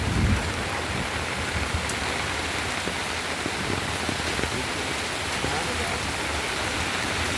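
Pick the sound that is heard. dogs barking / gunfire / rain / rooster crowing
rain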